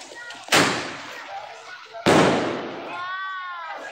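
Two sharp firecracker bangs go off a second and a half apart during Diwali celebrations, each leaving a crackling tail, with a faint whistling trail after the second.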